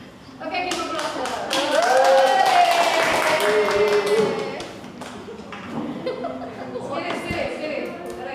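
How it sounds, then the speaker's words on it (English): A small audience at a science debate claps in a brief burst of sharp, near, uneven hand claps mixed with chuckles and chatter, then trails off into scattered taps and voices. "Okay, give a applause"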